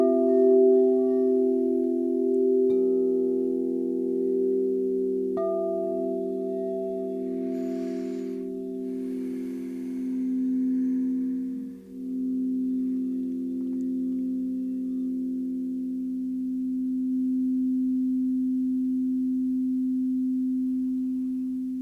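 Crystal singing bowls tuned to 432 Hz hum in long, smooth tones that overlap, and new bowls join in layered over the drone, which swells and sustains softly with a faint breathy rustle partway through.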